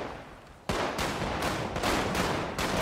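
Gunfire in a GTA 5 roleplay shootout, loud close shots landing in several distinct bursts over dense, sustained noise.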